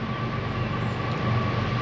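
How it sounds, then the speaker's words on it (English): A train passes near the Erie Canal, a loud, steady rumble of rolling wheels with a faint high whine held throughout, and no talk. "there's a train going by. There's a lot of train traffic."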